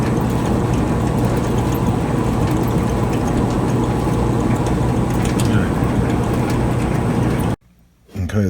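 Ratchet driving screws back into the frame of a Whirlpool Kenmore dryer during a belt replacement, a steady close clicking mechanical whir that runs continuously before cutting off abruptly near the end.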